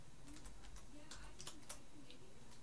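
Keys clatter softly as a command is typed on a computer keyboard, a quick run of irregular light clicks, close and quiet, with no talking.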